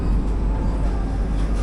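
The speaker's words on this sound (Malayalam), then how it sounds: "ഇത് അരക്കോണത്തേക്ക് പോകുന്ന മെമു ആണ്." MEMU train bound for Arakkonam at Tirupati station, a steady loud low rumble of the electric multiple unit running close by on the platform, with no voices.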